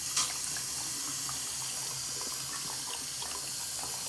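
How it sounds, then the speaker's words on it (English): Water runs from a newly installed WaterSong three-hole 8-inch bathroom sink faucet, a steady, even hiss of flowing water into the basin, fairly quiet and uninterrupted. "pretty nice flow of water is coming"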